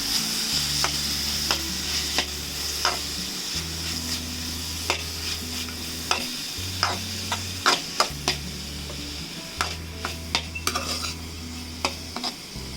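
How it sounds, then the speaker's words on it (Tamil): Carrots and other vegetables frying in a pan while being stirred, with a steady close sizzle and repeated clinks and scrapes of a utensil against the pan. "நல்லா கேரட் போட்டுக்கலாம். போட்டாச்சு. இப்போ நல்லா கொஞ்சம் ஃப்ரை ஆகட்டும்."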